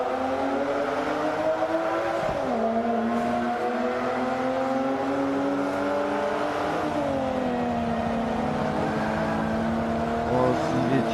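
Race cars in the Forza Motorsport 5 video game give a constant loud engine drone that rises and falls in pitch with gear changes and acceleration, with a person talking over the engine now and then.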